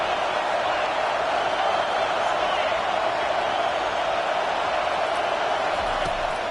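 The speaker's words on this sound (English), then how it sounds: "This crowd trying to make life miserable for this offense." A stadium crowd at a college football game keeps up a dense, steady roar throughout, with no breaks or swells, under a play-by-play commentator's voice.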